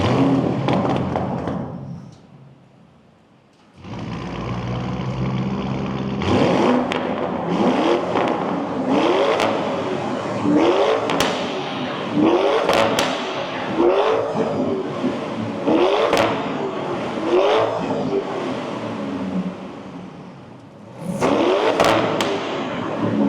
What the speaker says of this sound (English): you guys can hear the exhaust, because it's always fun to do an exhaust system in a little bit of a tunnel